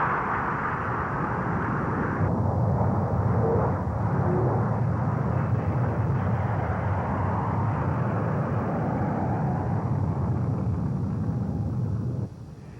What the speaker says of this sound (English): The Su-22s quickly launched their ATOLs within striking distance.